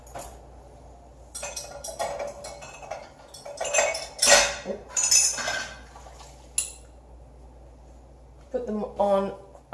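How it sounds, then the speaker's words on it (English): Glass canning jars full of boiling water lifted out onto a rack, with irregular clinks and clatters of glass and metal that come in bursts, some close and sharp, while a person talks in between. "Okay, so here's the jars. I lift them out on the rack."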